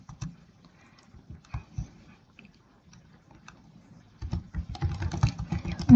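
Keys clicking on a computer keyboard as code is typed, scattered soft taps at first, then a denser burst of typing with a low rumbling noise underneath toward the end.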